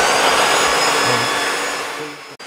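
An electric meat mincer fitted with a coarse plate runs with a loud, steady motor whine and grinding hum, alone and unbroken, before cutting off abruptly at the end.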